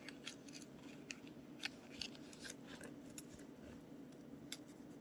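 Scissors snip paper for a small handmade collage book, the close blade cuts coming as quick, crisp, irregular clicks and rasps over a steady low room hum, with no talking.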